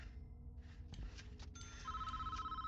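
A telephone rings in a prison-building video game, a repeating electronic ring that starts partway through and continues steadily over a low background hum of game sounds.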